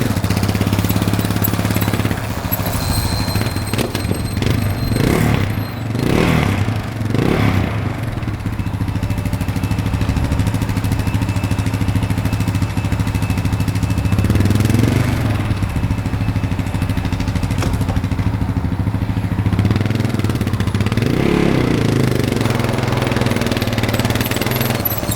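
A quad ATV engine chugs in reverse up a hill, a mid-pitched idle-like drone with several rhythmic bursts of throttle rising and falling, steady and fairly close throughout.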